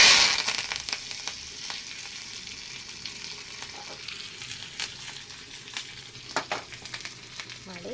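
Oil sizzles steadily in a pan with mustard seeds, asafoetida and curry leaves, with a constant crackling hiss, occasional sharper pops and faint stirring, close up.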